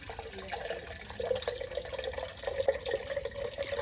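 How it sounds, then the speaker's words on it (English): Celery juice from an Omega juicer is strained into a container, giving a soft continuous trickle and splash of liquid at close range, with no talking. "And then I'm straining my celery juice."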